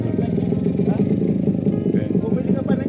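A motorcycle engine runs steadily close by, a low throbbing putter that continues throughout with a faint clatter on top.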